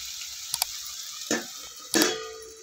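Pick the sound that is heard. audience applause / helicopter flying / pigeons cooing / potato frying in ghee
potato frying in ghee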